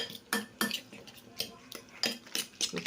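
Ingredients for a tortang dulong, an omelette with tiny dulong fish, are mixed in a bowl, giving a quick series of close clinks and scrapes from a utensil against the dish.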